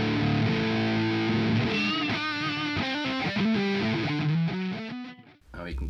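Electric guitar played through a Thunder Pull fuzz distortion, modelled on the Mr. Black Thunderclaw, on a Quad Cortex, giving thick, buzzy sustained notes and a quick run of picked phrases, loud and close before cutting off abruptly.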